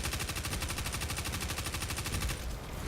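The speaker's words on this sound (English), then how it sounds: "Third thing we need to talk about is SMG recoil." Destiny 2 SMG gunfire, a single sustained burst of rapid, evenly spaced shots in a tight mechanical rhythm, fairly quiet and alone, cutting off just before the end.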